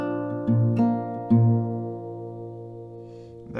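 An acoustic guitar plays an A-based chord from a slow melody, two plucked attacks with ringing notes that sustain and slowly fade, close and unaccompanied.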